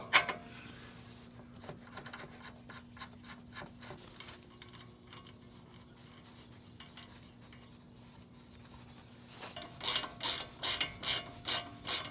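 A ratchet bolts an upper control arm back onto a Chevrolet Silverado Duramax truck, with quick bursts of clicking throughout, then a louder run of rhythmic ratcheting strokes at the end.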